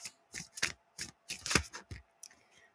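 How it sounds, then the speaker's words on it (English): Tarot cards being shuffled by hand, a run of quick papery riffles and slaps in uneven bursts, close and fairly quiet, with no talking. "Let's make sure these were nice and shuffled."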